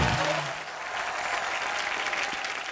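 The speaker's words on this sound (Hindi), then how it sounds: "जोरदार तालियां सुनिधि और हितेश के लिए।" Studio audience on a Hindi comedy talk show bursts into loud, sustained applause for a married couple of guests, a dense wash of clapping that fills the room from start to finish with no talking over it.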